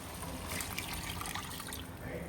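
Boiled water poured into a pot of mutton curry gravy, a steady hissing splash running the whole time, close and fairly soft.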